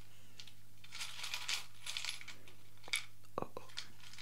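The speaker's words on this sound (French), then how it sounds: "nous commençons par tirer quelques charms" Small charms are drawn and dropped one after another for an ASMR tarot-style reading, giving soft scattered clinks and taps over a faint hum, with a sharper cluster of metallic drops near the end.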